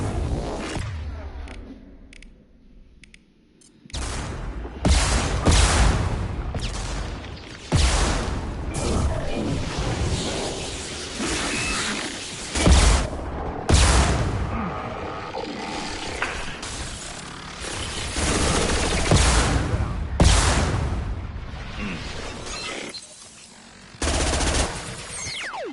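Gunfire in Mass Effect 2, played on PS5: loud bursts of rapid shots and heavy impacts in clusters, with a quiet lull near the start before the firing resumes and continues in waves.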